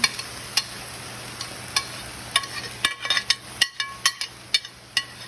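Lean ground beef seasoned with dark soy and a pinch of sugar fries in a pan for beef lo mein, a soft sizzle broken by sharp, irregular clacks of stirring and scraping close by.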